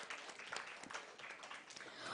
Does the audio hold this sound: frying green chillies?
no